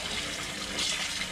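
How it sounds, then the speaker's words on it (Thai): Sticky rice is swished in water to wash off its slimy coating, making a brief, steady rush of running and sloshing water with no voices. "เราจะล้างที่เป็นลื่นๆออกนะคะ"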